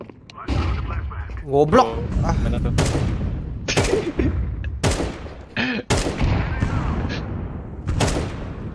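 Shotgun fire in a Counter-Strike match, a string of loud booming blasts with game clatter, heard under excited talking throughout.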